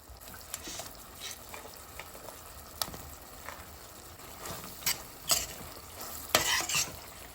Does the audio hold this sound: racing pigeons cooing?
no